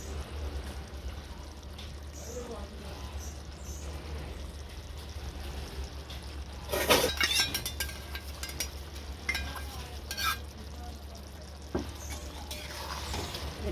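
Ground mustard paste going into an okra masala curry in a pan, with a soft sizzle and quiet stirring scrapes under a steady low hum, one brief louder clatter near the middle.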